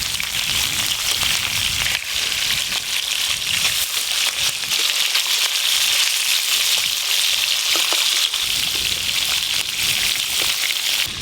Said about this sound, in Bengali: তেল গরম হয়ে গেল, মাছগুলো ভালো করে ভেজে নেব।